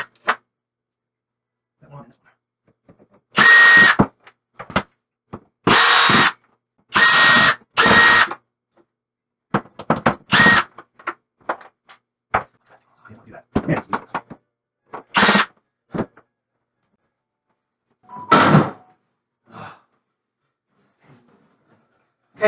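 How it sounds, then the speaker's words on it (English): Screws being driven out of an Arcade1Up cabinet panel with a power drill, heard as several short, loud whirring bursts with pauses between them, along with scattered handling clicks and a little talk. "you have to definitely take out screws on both sides"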